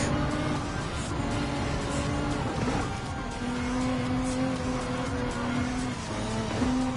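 Race cars in Gran Turismo 7, including an Alfa Romeo 4C Group 3, roar through an overtake in a World Touring Car 800 event at the Nürburgring, with steady engine drone and shifting pitch as they pass, loud and continuous.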